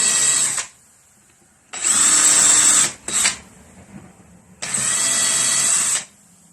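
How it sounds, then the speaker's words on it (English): A power drill whines in three loud, sustained bursts, drilling holes in an arcade game control panel, with short pauses and a brief blip between them. "now I've run the drill through all the holes"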